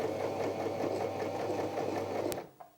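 A Janome J3-18 sewing machine stitches bar tacks, a steady fast mechanical whir with rhythmic needle clatter, close and loud, stopping abruptly near the end with a faint click.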